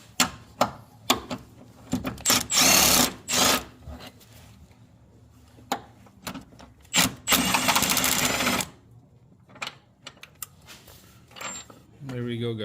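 A pneumatic impact wrench loosening a 17 mm bolt on a Honda Accord 3.0L during a timing belt job: two loud, rattling bursts of hammering separated by clinks and handling noises in a garage.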